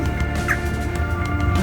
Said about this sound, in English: These poor birds are frozen.